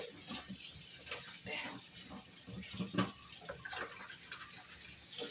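Water runs from a tap into a bowl for soaking cauliflower, a soft, uneven splashing and trickling close by with faint clinks.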